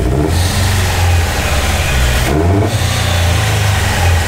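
A car engine in a workshop revs up and down repeatedly while fuel cleaner is drawn into its vacuum intake during a decarbonization treatment, loud and close with two brief dips in the roar.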